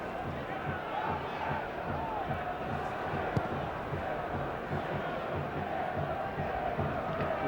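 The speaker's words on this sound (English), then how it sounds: "Oohs and ahs from the crowd here as we see the replay" Stadium crowd in the National Olympic Stadium murmurs and swells with oohs and aahs during a 1995 Toyota Cup football match, a broad steady roar heard from a distance.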